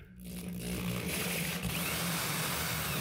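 A power drill bores a hole in material during a DIY bathroom renovation, running loud and steady for about three seconds after a brief start, with no talking.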